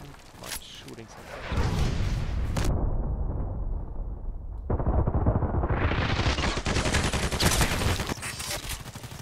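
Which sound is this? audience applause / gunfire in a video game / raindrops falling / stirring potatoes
gunfire in a video game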